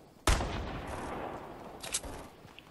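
A single sharp gunshot in Fortnite cracks loudly and close, then rolls into a long fading echo, with a fainter second pop shortly after.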